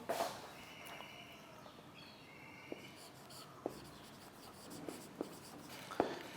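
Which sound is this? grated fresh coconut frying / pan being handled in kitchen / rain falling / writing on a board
writing on a board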